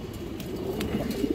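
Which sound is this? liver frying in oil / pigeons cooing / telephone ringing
pigeons cooing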